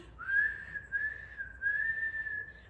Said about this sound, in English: They loved Peter's whistling, so did Willie.